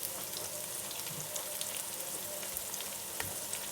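Spices and red chili powder sizzle in a pan for matar pulao, a dense constant frying hiss close by, broken by a few faint stirring scrapes, with no voice over it.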